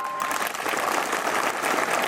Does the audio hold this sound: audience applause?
yes